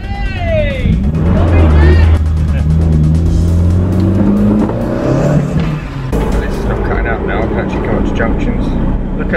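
A VW T4 van with a tuned 1.8T engine pulls away and drives off: a steady engine drone rising and falling in pitch as it accelerates, close up, with voices talking over it.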